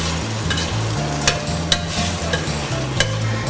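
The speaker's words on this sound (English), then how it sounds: "I'm going to give this a bit of a stir." Broad beans and meat being stirred in a frying pan, a steady close sizzle broken by a few sharp scraping clicks of the spoon against the pan.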